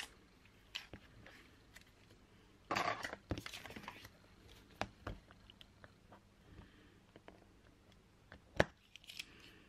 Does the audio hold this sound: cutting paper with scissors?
yes